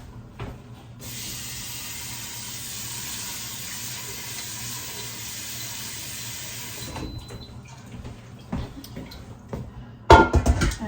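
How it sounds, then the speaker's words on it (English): Tap water rushes steadily into an Instant Pot in a kitchen for about six seconds, a close hissing flow, then shuts off, leaving faint handling clatter and a final clunk. "Okay, so I'm gonna get some water in here."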